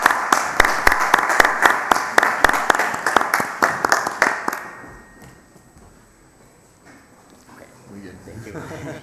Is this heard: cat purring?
no